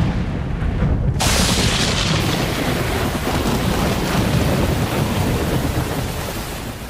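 Heavy rain pours onto a fast-flowing freshwater river, a dense, loud, steady hiss throughout, with low rumbling like distant thunder underneath and no voices.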